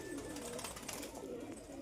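Pigeons in a pigeon collection with young birds for sale coo softly in low, rolling calls, faint and somewhat distant, over a quiet background.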